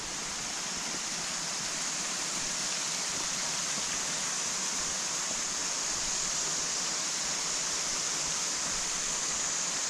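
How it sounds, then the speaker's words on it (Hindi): A waterfall on a forest mountain trek to Madhyamaheshwar in Uttarakhand roars as a steady, full broadband rush of falling water, unbroken and fairly close for the whole stretch, with no voices. "देखिए we are grated by this beautiful waterfall"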